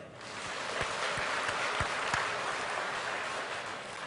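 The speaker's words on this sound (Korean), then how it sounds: "우리 예수님께 박수 한번 해요." A church congregation claps steadily in a dense, sustained round of applause during a Sunday sermon, with a few sharper individual claps standing out.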